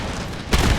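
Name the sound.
rocket barrage explosion in video game Empire: Total War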